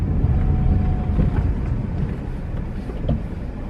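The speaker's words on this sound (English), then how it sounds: "There goes the car off in the distance." A car passes in the distance along a Florida highway, heard as a broad low rumbling roar that swells early and slowly fades, mixed with some wind buffeting on the microphone and no speech.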